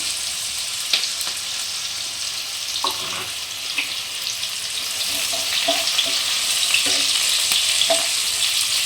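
Chopped onion frying in a pan with green chillies nearby, a steady close hiss of sizzling oil with occasional clinks and scrapes of stirring over a constant background.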